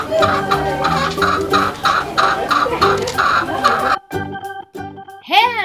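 A hen clucks repeatedly, loud and near, with a dense run of clucks for about four seconds, then a few separate clucks and a rising squawk at the end.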